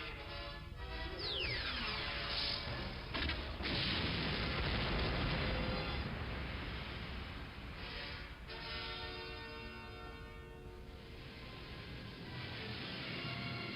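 Death Star superlaser firing in the Star Wars: Empire at War Forces of Corruption mod, a sustained, loud roaring blast with sweeping tones and rumbling layers that surge and hold for over ten seconds without pause.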